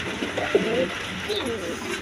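Several pigeons in a breeder's coop give soft, close cooing calls under a steady background hum.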